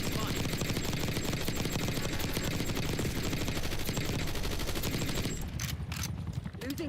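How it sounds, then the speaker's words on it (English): An SMG fires at a chopper in Black Ops 6, a continuous loud rattle of automatic fire that runs for several seconds before cutting off into scattered game sounds and a voice. "Shooting the chopper with my SMG."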